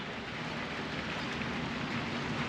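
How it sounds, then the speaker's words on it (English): Steady, dense rain on an outing in Australia, a continuous close hiss of heavy drops with no voices and no breaks in the patter. "And the drops of the rain is getting heavier."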